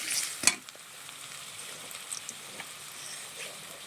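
Mung dal stirred with spices in a pan: a steady, quiet frying sizzle with one sharp scrape of the spoon near the start, then faint scattered stirring clicks, no voices.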